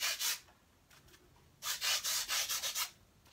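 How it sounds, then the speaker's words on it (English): A sponge rubs soft pink pastel onto paper, a soft close scrubbing hiss in a short pair of strokes, then a quicker run of several rhythmic rubs after a pause, with no talking. "you get it on the sponge, and then you just go in here, and this is going to provide me with some highlights"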